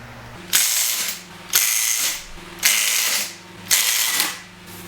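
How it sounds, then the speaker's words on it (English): A 12-volt Milwaukee impact driver removing a wheel from a Porsche 911 997, running in four loud rattling bursts of about a second each with short pauses between them, close up. "now I'm going to be using my super strong 12 volt Milwaukee impact driver to remove the wheels"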